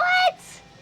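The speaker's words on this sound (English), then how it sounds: "The ice cream truck." An ice cream truck's jingle plays at a campsite, a loud, bright melodic tone that cuts off abruptly after a fraction of a second, leaving quiet background.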